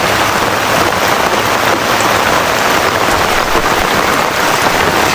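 Heavy rain pounding steadily on a surface, loud, dense and unbroken throughout.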